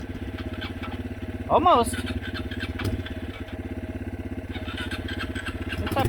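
A dirt bike engine starts and runs at an outdoor event, a steady near, loud rumbling idle with a brief revving surge early on, while a person speaks briefly over it.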